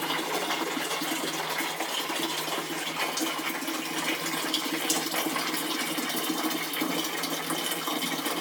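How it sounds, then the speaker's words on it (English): Really hot water from a kettle pours into a Pinter home-brewing device, a steady, close, continuous stream of liquid filling the vessel at even strength throughout. "I'm going to pour some actual really hot water into here."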